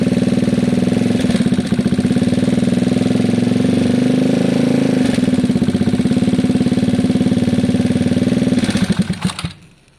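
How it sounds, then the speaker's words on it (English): A Gilera DNA scooter engine with an air leak at the intake boot runs steadily up close in a constant buzzing drone, then cuts out and fades in the last second. "Now listen to the engine note."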